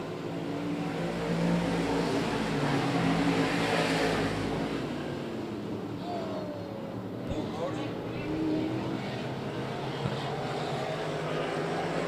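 Race cars roar around an oval track, a continuous engine drone that swells and recedes as they pass down the back straightaway, with a commentator talking over it throughout.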